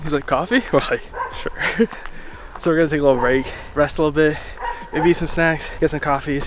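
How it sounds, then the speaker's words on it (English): Dogs that followed hikers on the Theth to Valbona trail in the Albanian Alps give yips, whimpers and short barks, close by and mixed under continuous talking. "Sorry about the dogs, they followed us."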